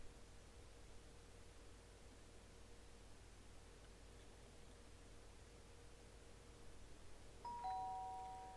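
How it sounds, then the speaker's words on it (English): A doorbell chime sounds briefly near the end in a video game, a faint tone rising after a long stretch of low steady hiss and hum. "she's gonna ring that doorbell"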